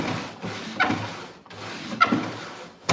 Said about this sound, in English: So when you put your drawer in, okay, can you hear the difference?